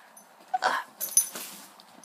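A puppy lets out a few brief, high whimpers and yips close by, in two quick bursts in an otherwise quiet indoor room.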